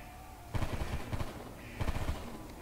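Rapid gunfire in a Call of Duty-style zombies video game, heard as two short automatic bursts about a second apart, moderately loud and close, with no talk over them.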